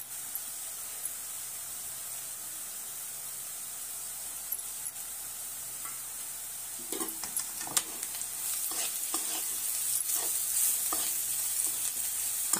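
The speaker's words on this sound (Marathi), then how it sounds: "त्यात आता आपण ही घेतलेले सर्व मसाले त्यात ऍड करू आणि तेही चांगल्या प्रकारे परतून घेऊ" Ground spices sizzle in oil with already-fried onion in a pan for a spicy potato and spinach sabzi, a steady hiss building in the second half with spoon stirring and scraping clicks, close and alone.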